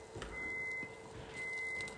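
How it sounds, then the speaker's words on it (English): Two evenly spaced electronic alarm beeps sound at moderate distance over a low background hum. "there's the alarm again"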